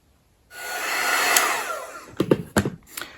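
Hair dryer heating a thick two-piece plastic ornament ball switches on with a rushing airy blast, runs steadily for a second and a half, then sputters in uneven bursts as it is moved around close by.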